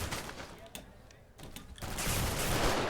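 Rapid submachine-gun fire in a video game, a near, loud stream of automatic shots that builds toward the end, with a voice speaking over parts of it.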